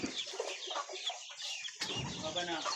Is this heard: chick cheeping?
yes